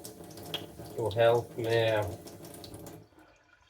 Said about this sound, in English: I'm actually just getting a little water on it